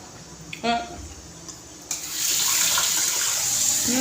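A kitchen tap runs water over hands being washed while cooking at home, starting with a brief clink and then a loud, steady close splashing stream that continues to the end, with a faint voice early on.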